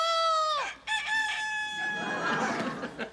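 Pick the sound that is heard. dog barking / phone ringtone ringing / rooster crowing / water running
rooster crowing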